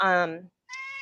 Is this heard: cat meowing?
yes